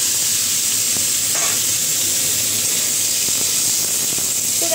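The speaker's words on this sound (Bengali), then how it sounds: "আর এই যে আলুটাও ভাজা হয়ে গেছে আমার প্রায়।" Potato pieces frying in hot oil in a pan produce a loud, dense, continuous sizzle and hiss close up, with occasional stirring scrapes and no voices.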